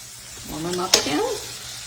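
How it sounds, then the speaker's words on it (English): Scallops sizzling in a pan with brown butter sauce, a steady frying hiss with a brief sharper crackle midway, close and moderately loud, no talking. "I'm going to return the scallops to the heat."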